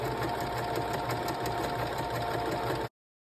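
Sewing machine running steadily as it stitches pleated waffle fabric flat along a seam, a continuous close, even mechanical whir with a rapid needle rhythm, uninterrupted for about three seconds before stopping abruptly.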